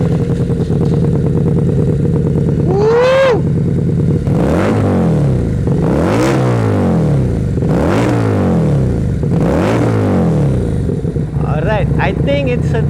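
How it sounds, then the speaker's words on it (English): A Bucaneer 250i ABS motorcycle engine idles, then is revved hard in four repeated, evenly spaced bursts that rise and fall, loud and close, before settling back to a rough idle. "So jom, let's hear the sound of the bike."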